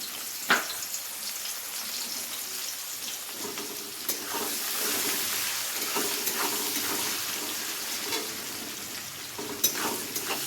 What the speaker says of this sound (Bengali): পেঁয়াজটাকেও হালকা ব্রাউন কালার করে একটু ভেজে নেব